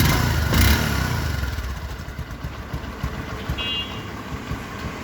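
A second-hand Bajaj Discover 125 motorcycle idles nearby, a low steady engine rumble with a soft puttering pulse, fairly even throughout, with a brief louder thump near the start and a faint beep partway through.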